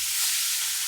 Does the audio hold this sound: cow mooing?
no